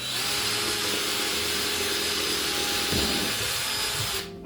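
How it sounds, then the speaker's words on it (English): A power drill bores holes through wood for a dining table build, one steady continuous whine close by and loud for about four seconds, with a brief dip in pitch near the end before it stops. "drilling holes so that I can not only secure the wood with the clamps, but secure them with the screws"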